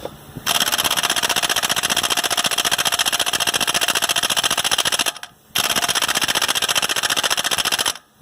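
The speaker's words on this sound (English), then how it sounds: "I'm going to hit it with an impact wrench and see if it comes off." Impact wrench hammering loose a 34 mm axle nut on a 2007 Kia Sedona during a passenger-side CV axle replacement: two loud, rapid rattling bursts, about five seconds and then two and a half seconds, separated by a brief pause.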